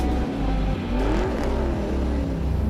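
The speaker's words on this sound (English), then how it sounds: "Those engines are revving," Revving engine sounds from an Aston Martin Vantage GT3 and a 1996 Chevrolet Impala SS in a Hot Wheels diecast race on a double-lane curved track: loud, steady engine roar with rising and falling pitch, no talking.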